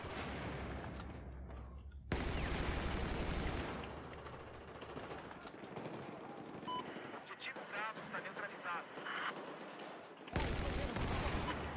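Battlefield 4 gameplay with loud, repeated automatic gunfire in rapid bursts and occasional heavier blasts. A player talks over the shooting.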